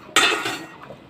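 A metal lid is set onto a cooking pot of greens and potatoes with green chillies, giving one sharp clattering clink followed by a short ringing decay, close and fairly loud.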